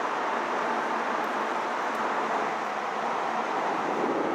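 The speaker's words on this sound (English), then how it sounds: "Just a little bit of wind noise." Wind noise inside a Lexus GS350 F Sport sedan while driving, a steady, even broadband rush with no distinct events and no talk.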